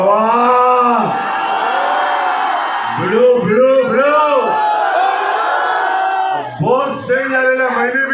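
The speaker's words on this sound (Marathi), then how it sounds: "जरा जोरदार टाळ्या त्यांच्यासाठी." A large crowd at a live stage event cheers loudly for a superstar actor's introduction, with rising and falling whoops and shouts over a busy, sustained roar of voices.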